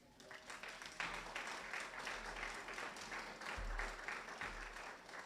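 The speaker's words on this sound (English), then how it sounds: "give them a round of applause" Applause from an audience at a Prince Hall Grand Lodge of Massachusetts scholarship and awards ceremony, steady and sustained, heard faintly from a distance across the hall.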